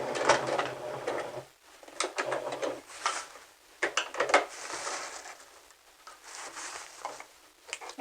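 A sewing machine back stitches along the seam of a clutch purse, running in several short bursts of rapid needle clatter with brief pauses between them, close and fairly quiet.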